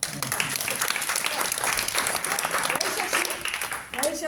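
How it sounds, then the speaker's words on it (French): An audience applauds at a French community housing lab launch event, with loud sustained clapping that dips briefly near the end and swells again. "Vous pouvez vous applaudir."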